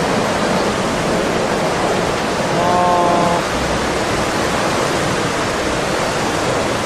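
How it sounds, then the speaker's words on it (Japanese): The second tsunami wave surges through Minamisanriku as a loud, continuous roar of rushing water, with a brief siren-like tone rising in the middle. "津波第2波襲来。"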